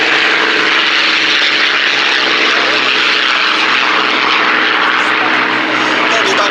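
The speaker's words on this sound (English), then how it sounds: "That's the Spanish-built Merlin engine version of the 109" A Spanish-built, Merlin-engined Messerschmitt 109 fighter roars past at an air show at Duxford. Its propeller engine drones loud and steady throughout, with no gaps.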